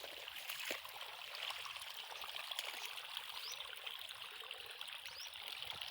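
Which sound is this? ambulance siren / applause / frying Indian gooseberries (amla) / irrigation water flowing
irrigation water flowing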